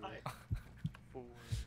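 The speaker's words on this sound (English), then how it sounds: "Wait, I can hear my heartbeat." Heartbeat effect in a video game: four low, soft thumps spaced about a third of a second apart, heard beneath game voices and ambient sound.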